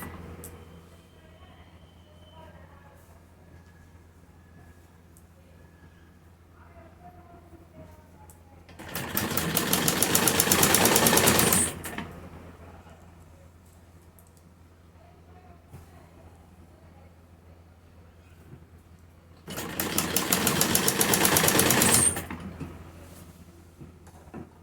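A sewing machine stitches pleats on a salwar in two separate bursts of rapid, buzzing whir, each lasting a few seconds. Both bursts are loud and close, with a quiet room between them.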